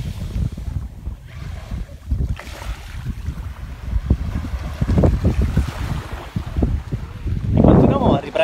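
Blustery wind sweeping across a sea beach with crystal-clear water beside a nature reserve, roaring steadily and buffeting the microphone, with surf washing underneath and louder gusts near the end.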